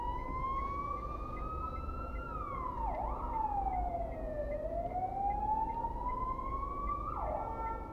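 An ambulance siren wails near Ploiești South railway station in Romania, a loud continuous tone sweeping slowly up and down over steady street noise, with no talk.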